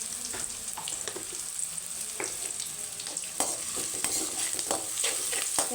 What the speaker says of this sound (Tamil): வெங்காயம் நல்லாவே வதங்கக்கூடாது லைட்டாக தான் வதங்கணும்